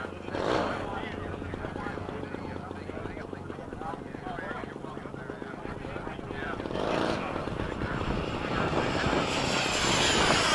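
F-16 fighter jet engine roaring at full power, a loud sustained broadband rumble that swells toward the end, with people talking over it.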